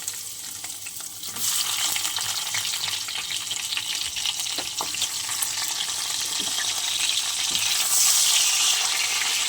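Brinjal pieces frying in a pan for a rohu and brinjal curry, giving a steady broad sizzle that swells after the first second and holds loud and even to the end, with a few faint clinks.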